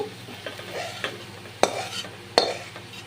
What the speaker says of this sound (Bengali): আমি এখন দিয়ে দেবো এক চামচ ঘি ঘিটা দিয়ে একটু নেড়ে চেড়ে নিতে হবে